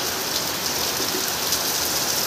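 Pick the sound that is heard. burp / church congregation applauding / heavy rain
heavy rain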